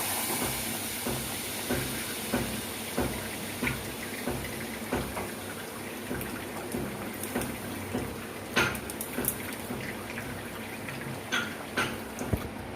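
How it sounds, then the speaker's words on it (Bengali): Pineapple paste for chutney sizzles and hisses in a hot wok on a gas stove, a steady low frying noise broken by small bubbling pops and occasional spoon scrapes. "আমি কড়াইটা গ্যাসে চাপিয়ে দিয়েছি। এবার আনারসের পেস্টটা দিয়ে দেবো।"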